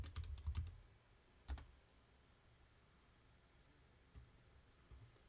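Keystrokes on a computer keyboard while naming a sketch in Fusion CAD software: a quick cluster of faint clicks at the start, one more tap a second later, then a few soft isolated presses over low room hiss.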